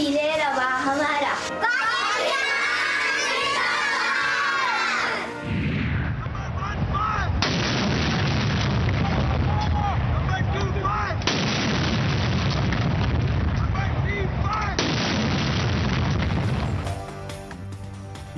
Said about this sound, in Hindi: यौम आज़ादी का आगाज़ वफाकी दारुल हुकूमत इस्लामाबाद में 31 और सूबाई दारुल हुकूमतों में 21 तोपों की सलामी से हुआ।